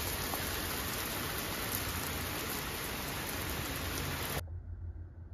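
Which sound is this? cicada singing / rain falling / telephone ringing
rain falling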